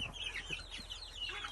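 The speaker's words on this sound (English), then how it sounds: "Yeah, we got a bunch of roosters in there." Faint clucking from chickens and roosters on a farm, with higher bird calls over a steady low background hum, heard at a distance.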